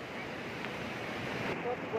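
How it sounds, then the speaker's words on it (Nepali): Light rain falls beside the Rumbi Khola river in Kalimpong during a fishing outing, a steady, close broadband hiss of drops and flowing water that continues without a break. "पानी आउनु थाल्यो हल्का हो"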